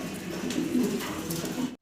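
Fancy pigeons, including a Chinese nasal tuft male, give a low rolling coo up close, one continuous throaty phrase that swells and then cuts off abruptly, with no talking.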